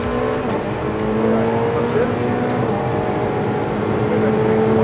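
A race car engine at full power drones loudly and steadily at close range, its pitch climbing as it upshifts partway through, with a voice talking over the roar.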